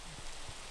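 Rain in a video game, a soft, faint, steady hiss of falling rain with no talk over it.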